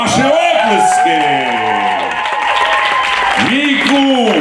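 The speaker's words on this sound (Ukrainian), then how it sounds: "Ваші оплески!" Applause and cheering from a festival crowd at a Ukrainian comedy performance, a dense steady wash of clapping and shouts behind the comedian's loud, harmonic talk, with music or tonal sound running through.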